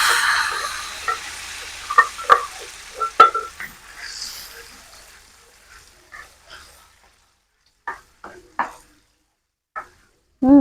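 Blended spice paste hits hot oil in a pan while cooking a coconut-free fish curry, giving a soft sizzle with several sharp stirring clinks and scrapes early on, then sparse knocks as things quiet down.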